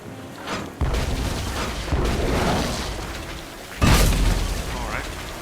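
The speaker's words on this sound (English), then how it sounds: "Another cannon!" Several heavy booming cannon blasts go off one after another in the video game Tales of Monkey Island, loud and close, with rumbling tails in between.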